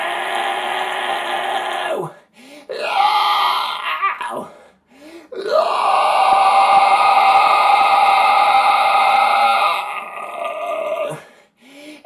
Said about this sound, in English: Is that the hypercompressed scream?